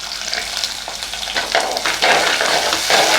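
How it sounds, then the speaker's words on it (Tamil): Shallots and garlic cloves sautéing in oil in a pan as the base for a fish curry, a steady bright sizzle with stirring swells growing louder toward the end, no voices. "நல்லா வதங்கட்டும்."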